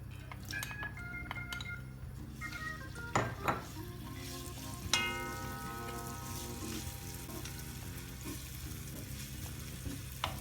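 Bacon and garlic frying together in a pan, a constant close sizzle with a few metallic clinks and utensil taps on the pan, no voices.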